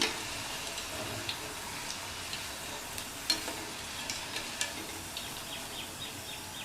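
Snake gourd slices deep-fry in oil in a quiet, even sizzle, soft and a little distant, with small scattered ticks and pops coming through.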